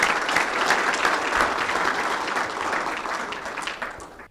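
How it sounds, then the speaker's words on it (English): An audience at a question-and-answer session on the I-40 Hernando DeSoto Bridge breaks into strong, full applause that gradually thins and fades over a few seconds. "let's give him one more round of applause"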